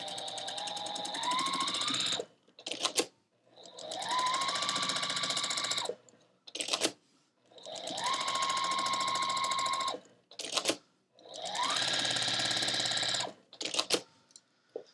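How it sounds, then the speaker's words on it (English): A sewing machine stitches quarter-inch seams joining quilt block pieces, running in four whirring bursts of about two seconds each, speeding up as each starts, with short clicks and pauses between runs. "Then I'll take this to my sewing machine, sew a 1/4 of an inch"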